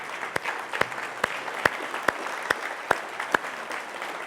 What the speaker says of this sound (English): Can everybody just please give him a round of applause?